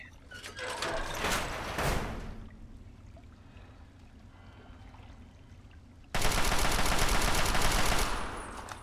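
Fallout 3 weapon fire comes as two loud sustained bursts, one in the first couple of seconds and another after a quiet gap, with faint ambient noise between.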